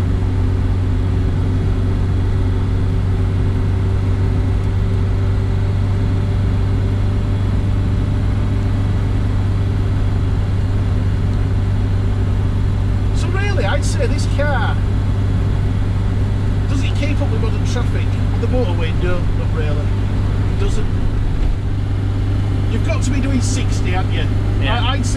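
A 1969 Reliant Regal three-wheeler driving on the road, a constant loud droning engine and road noise from inside the car, with occasional faint voices partway through.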